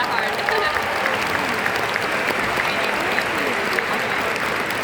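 Steady applause from a crowd at a Christian festival in Estonia, dense and continuous clapping throughout, fairly loud with no pauses.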